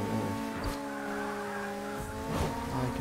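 Racing cars closing in within the arcade racer Burnout 3: Takedown on PS2, a steady engine drone with rising whine and brief tire squeals as rivals approach from behind, continuous and fairly loud with no talking.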